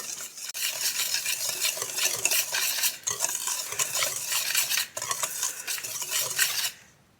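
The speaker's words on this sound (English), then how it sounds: "this does it for the dry ingredients, so I'm just gonna whisk those all up." A whisk beats dry cornbread ingredients in a bowl, a fast, steady, close scratching and rattling that runs for several seconds before stopping abruptly, with no talking.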